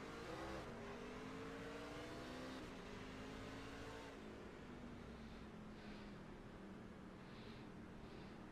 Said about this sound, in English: Josh get a bit of wheel spin and jump off the gas and let it spool back up and back onto the gas again